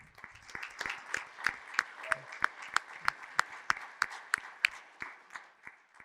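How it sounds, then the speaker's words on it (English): Sparse applause at a county supervisors candidates forum: a handful of distinct, evenly spaced claps from a small group, sharp and fairly close, tapering off after about five seconds. "Hey, let's give a round of applause to this kind gentleman."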